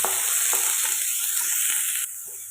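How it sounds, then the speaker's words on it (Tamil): Steady hissing sizzle of onion and curry leaves sautéing in hot oil in a pan, continuous and close, with faint stirring scrapes and a slight drop in level near the end. "கருவேப்பிலை கொஞ்சம் பொரியட்டு ஒரு வெங்காயம் லேசாக வதக்கலாம்"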